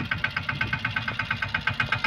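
A Swaraj mini tractor engine chugs steadily nearby while sowing groundnut with a fifteen-row seed drill, its rapid, even thumping pulses repeating without a break.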